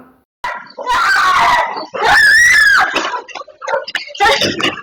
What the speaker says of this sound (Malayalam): തെരുവ് നായകൾ കുട്ടികളെ ആക്രമിക്കുന്ന സി സി ടി വി ദൃശ്യം